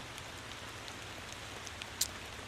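Steady rain falls in the driving video game Motor Town, a soft even hiss with one brief louder spatter near the end, quiet and continuous.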